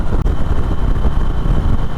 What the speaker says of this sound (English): Listen to that engine, it just sounds epic.